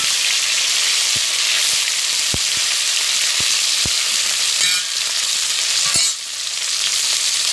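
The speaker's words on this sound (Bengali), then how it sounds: "মাছটা একটু ধুয়ে গিয়েছে, আমি আর একটু ভেজে নিচ্ছি" Snakehead fish frying in hot oil in a village kitchen, a steady loud sizzle running throughout with scattered sharp pops and spatters and a few stirring scrapes.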